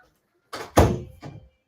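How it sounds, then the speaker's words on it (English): An indoor door swung shut with a soft push and then a firm thud, with a short rattle of the latch right after, heard close up with no one talking. "Let me close this door because I don't want to disturb my people."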